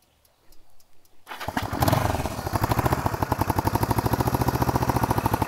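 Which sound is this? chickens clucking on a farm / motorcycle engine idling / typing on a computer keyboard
motorcycle engine idling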